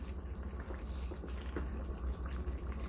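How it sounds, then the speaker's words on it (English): Liver stew simmers in a pot with a steady, low bubbling and hiss that stays constant and quiet throughout, nearby and without voices. "I'm going to turn this down now so it can simmer"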